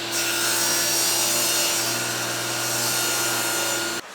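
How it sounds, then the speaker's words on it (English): A power saw cuts steadily through 1/2 inch MDF, shaping a charcuterie board template, with a loud continuous buzzing drone held for about four seconds before it stops abruptly. "I'm going to finish just cutting this out, making it into the template"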